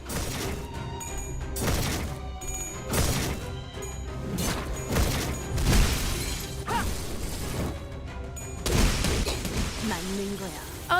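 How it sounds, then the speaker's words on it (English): Shattering glass and crashing impact effects in the video game Limbus Company repeat in heavy bursts, layered with other combat sounds and game voices throughout. "there's a little bit of a sort of glass effect there"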